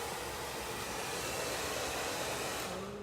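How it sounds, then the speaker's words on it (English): A hair dryer with a nozzle blows in a steady, loud, unbroken roar at close range during a curly-hair bob haircut, its pitch dipping slightly near the end as the airflow shifts. "let me show you how to put the dryer on properly"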